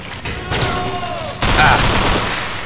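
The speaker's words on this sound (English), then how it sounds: "I hear shotguns." Shotgun blasts in the video game UnderHell, two loud booming shots about a second apart, each with a short decaying tail, and a faint tonal game sound underneath.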